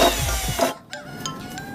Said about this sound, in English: maybe the hole saw was too tough on that drill